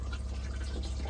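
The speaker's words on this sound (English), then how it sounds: "use the toilet, flush it" A caravan cassette toilet in a Swift Escape 684 flushes with fresh water, a faint, steady trickling and dribbling rush that lasts only a moment.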